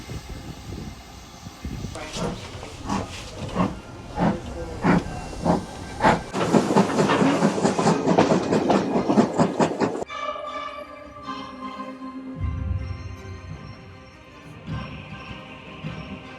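A vintage steam train on the Strathspey Steam Railway, pulling back into Broomhill station, chuffs rhythmically with loud hissing bursts, then settles into quieter rolling and clanking carriages, with some talk in the background.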